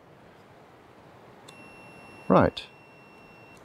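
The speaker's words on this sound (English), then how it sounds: "So you can hear the tone. That's the lens saying I'm focused." A film camera's lens gives a thin, steady high-pitched focus-confirmation tone partway through, holding faintly to the end, with a brief spoken word over it.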